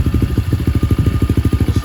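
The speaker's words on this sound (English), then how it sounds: "Got the engine started up." A 2021 SSR dirt bike engine idles close by, with a steady, rapid low-pitched chugging pulse throughout and no talking over it.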